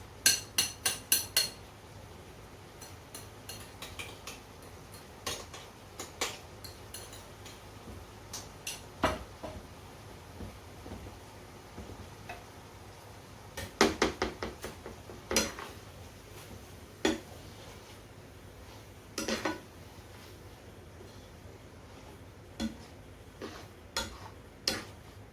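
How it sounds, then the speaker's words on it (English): Mango taco ingredients stirred in one pan give sparse, irregular metallic clinks and taps of a utensil against the pan, quiet between strikes with a low steady hum underneath. "I'm going to stir these ingredients together"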